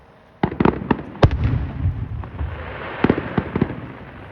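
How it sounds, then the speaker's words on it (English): Fireworks bursting overhead, a rapid series of loud sharp cracks and booms in irregular clusters with crackling tails, close and echoing, without talk. "you've got these massive explosions going off right above your head"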